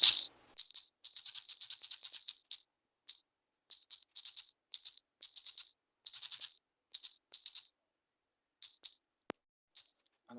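Computer keyboard typing while a reply is written in Gmail: bursts of quick, close key clicks with short pauses between words, a single sharper click near the end, and no talking.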